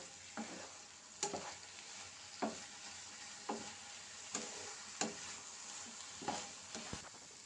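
A spoon stirs egg fry curry in a pan with a soft, steady sizzle beneath, sharp scraping strokes landing about once a second.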